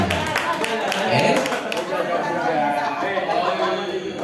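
Applause from a seminar audience of teachers at SMPN 116 Jakarta, a dense wash of clapping mixed with crowd chatter that stays fairly loud and steady throughout.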